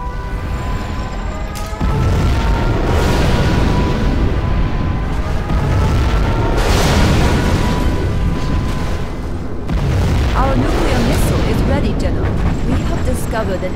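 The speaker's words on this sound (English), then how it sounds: "We have launched our nuclear missile." A nuclear missile launch and blast in Command & Conquer Generals Zero Hour on a desert map roars loud and continuous, with deep rumbling booms swelling and rolling for over ten seconds, while game voice announcements come through in parts.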